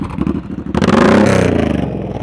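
Motorcycle engine revving at low speed during slow-speed riding practice, a close, loud throaty rumble that swells into a sustained rev and then holds steady.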